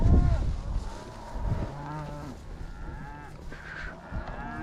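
Cattle in a herd on a ranch, several moos rising and falling one after another, some close and loud and others fainter, with low rumbling background noise.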